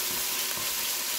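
Three garlic cloves sizzle in sausage-flavored oil in a hot pan, a steady, close, dense hiss with no pauses and no talking.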